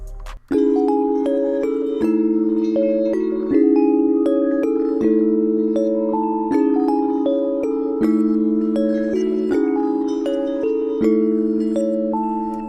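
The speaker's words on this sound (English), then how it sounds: "and it's from Wave Supply, and it's a bell." A synthesized bell patch from the Omnisphere Wave Supply bank plays a repetitive, looping melody of clear ringing tones with long sustains, loud and alone in a trap-style beat.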